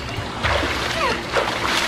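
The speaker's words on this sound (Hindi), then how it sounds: "अब हम जा रहे हैं पानी में कूदने के लिए" People jump into water after a mud bath in Goa, making a couple of quick splashes and sloshes close by, with voices mixed in around them.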